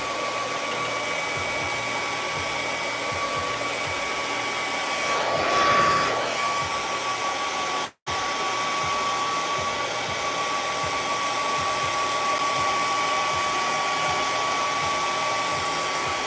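A hair dryer blows steadily and loudly over wet paint on a canvas, its airflow briefly shifting in pitch as it is moved, then cutting off for a moment before resuming.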